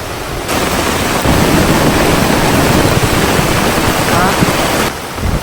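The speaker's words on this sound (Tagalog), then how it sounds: "Sobrang lakas ng ulan at kumukulog." Very heavy rain pours down steadily at a flooded riverside campsite during a thunderstorm, a dense unbroken roar that fills the whole clip.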